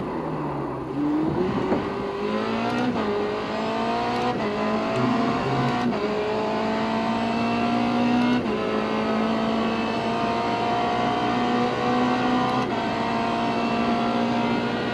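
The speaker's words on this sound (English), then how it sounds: "Enjoying the engine sound," A race car engine in iRacing revs loudly and steadily through the gears, each upshift marked by a brief drop before the pitch climbs again, close and continuous.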